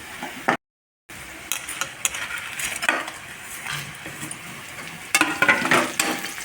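Onion frying in a pan with whole spices being added for chicken pulao, a steady soft sizzle with intermittent stirring scrapes and light clinks.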